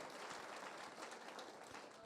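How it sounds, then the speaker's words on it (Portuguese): A church congregation applauds steadily, a dense, even wash of many hands clapping that fills the room without a break, with voices mixed faintly into the crowd noise. "Você pode aplaudir Jesus por isso?"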